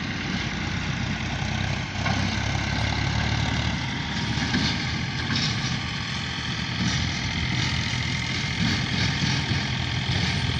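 A tractor engine runs at a brick kiln with a steady, continuous low drone that holds at an even level from start to finish, with no voices over it.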